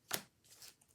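A single quick riffle of a standard 52-card deck being shuffled, a short crisp burst followed by softer papery flutters, close and quiet with no talking.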